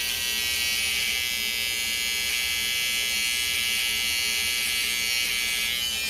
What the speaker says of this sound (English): put the trimmer like this and use the corner